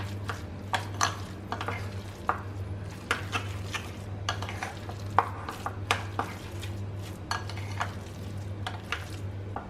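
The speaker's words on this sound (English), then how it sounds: "Mix it nicely." Egg batter with ginger and green chilies is stirred in a bowl, the spoon tapping and clinking in an irregular rhythm over a steady low hum.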